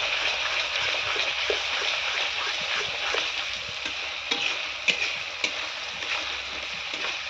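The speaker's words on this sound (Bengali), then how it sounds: "এখন মশলাটা কিছু সময় নাড়াচাড়া করতে থাকবে, যাতে মশলা থেকে তেলটা বেরিয়ে যায়।" A spice paste with turmeric powder fries in oil in a pan while being stirred, for a duck curry. A steady close sizzle runs throughout, broken by occasional scraping clicks from the spoon, with no talking.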